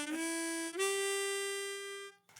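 Harmonica plays a short blues riff, a few sustained reedy notes with a clear shift in pitch partway through, close and fairly quiet, alone with no voice.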